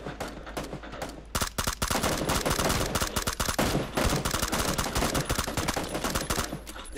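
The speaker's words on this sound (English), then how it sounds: "You're shooting the ground." Rapid bursts of gunfire in a first-person shooter video game, dense automatic shots and single cracks firing continuously and loudly for several seconds with no talking.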